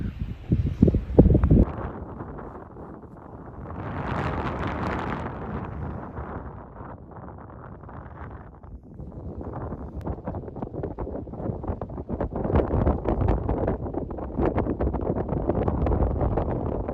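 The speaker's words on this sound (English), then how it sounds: "the wind behind us is belting" Strong wind blows across an exposed hillside at High Cup Nick on the Pennine Way, a glaciated valley, roaring and buffeting the microphone in rising and falling gusts, with a brief clatter near the start.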